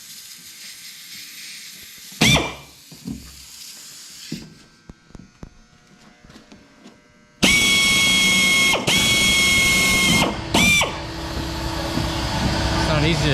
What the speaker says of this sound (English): It's not easy to drill on a curve.